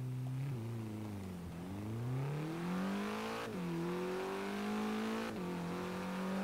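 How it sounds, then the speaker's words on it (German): Four-cylinder car engine in Forza Horizon 3 revving hard through the gears, pitch climbing steadily then dropping sharply at each shift, repeated three times in a loud, continuous drone. "Ja, hört sich auch für einen Vierzylinder nicht schlecht an"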